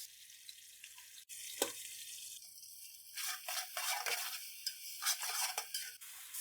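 Garlic ginger paste fries and is stirred in a pan, after the onions and tomatoes, while cooking Punjabi-style tori (ridge gourd) sabzi. A soft sizzle runs under repeated scraping and stirring strokes, near and fairly quiet, with no talking.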